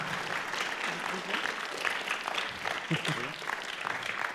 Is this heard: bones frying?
no